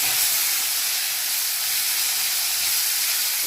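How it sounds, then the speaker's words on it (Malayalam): Mustard seeds crackle and sizzle in hot oil in a brand-new pan, a steady close hiss filling the whole stretch with no talk over it. "ഇതിലേക്ക് നമുക്ക് കടുക് ഇട്ട് കൊടുക്കുക"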